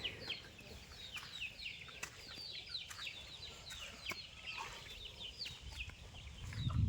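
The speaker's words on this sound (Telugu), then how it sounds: "మన దగ్గర మంచి టాప్ క్వాలిటీ పెట్లు అండ్ పుంజులు కూడా ఉంటాయి." A flock of hens and roosters kept on a poultry farm clucks continuously, with many overlapping calls at mid distance over steady yard ambience and occasional sharp knocks.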